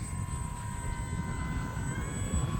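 An E-flite Pitts 850mm RC airplane on a 4S battery flies at slowed speed into the wind, its electric motor giving a steady, thin whine against a soft rumble of wind, fairly faint and continuous.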